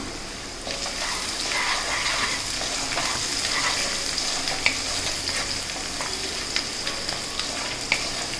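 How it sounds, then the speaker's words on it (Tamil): Sliced big onions and curry leaves sauté in a pan for hotel-style rava kichadi, a constant dense sizzle close by with light periodic taps of a ladle stirring through it. "வெங்காயம் இந்த பச்சை வாசனை போகிற வரைக்கும் வதக்கினா போதும்"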